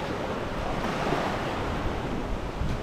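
Ocean surf at Natago Beach on Guimaras Island in the Philippines, a steady broad wash of breaking waves mixed with wind buffeting the microphone.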